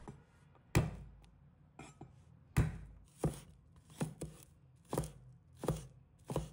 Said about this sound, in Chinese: 再准备几个大蒜，把它切成末